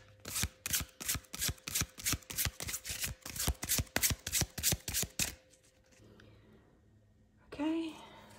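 Tarot cards being shuffled in a steady run of quick, crisp riffles for about five seconds, close up, followed by quiet and a brief soft voice.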